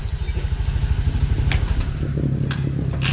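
A motorcycle engine idles close by in a fast, even putter, with a few faint clatters on top and no talk.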